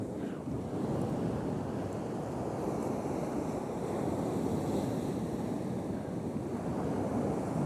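Surf breaks and washes continuously on Kilnsea Beach on the Holderness coast of the UK, a dense, steady roar of waves mixed with gusting wind buffeting the microphone, with no talk.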